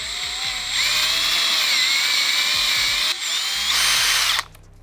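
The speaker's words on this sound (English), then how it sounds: "I haven't drilled a hole through the seat yet." A power drill boring a hole through a seat while building a Rascal GT drag kart: a loud, steady whining buzz that holds for about four seconds, dips briefly, then surges again before cutting off.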